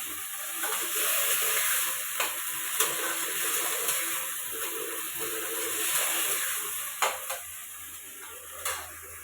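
Onion and tomato sautéing in a pan, a soft steady sizzle and hiss with a few scattered utensil clicks toward the end, fairly quiet and with no talking.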